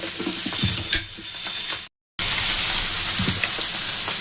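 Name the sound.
mixer grinder grinding cooled mung dal into powder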